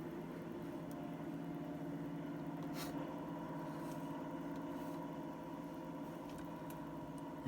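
A diesel locomotive in the Trainz railway simulator, pulling coaches, runs a steady droning engine with layered mid and low hum, even and continuous, with a few faint clicks on top.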